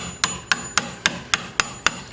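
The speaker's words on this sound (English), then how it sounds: "you're literally tapping in and chiseling out the wood until you can make an indentation" A hammer strikes a chisel cutting a hinge notch into a wooden door, eight sharp, evenly spaced taps about a quarter second apart, close and crisp with no voices.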